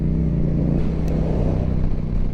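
Yamaha MT-07 motorcycle fitted with an Akrapovic exhaust, ridden on a spring road, with a steady loud engine drone and low exhaust rumble running throughout, no talking.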